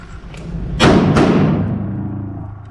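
Two loud, close rifle shots go off in quick succession at an outdoor shooting class, each a sharp crack followed by a booming echo that slowly fades.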